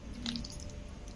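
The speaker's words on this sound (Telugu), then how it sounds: "వాటర్ వేసి కలిపి చూస్తా పర్ఫెక్ట్గా ఉందా లేదా అనేది." Mysore bonda batter is squeezed and mixed by hand in a bowl, giving a close, soft, wet squishing over a very short moment with no voices.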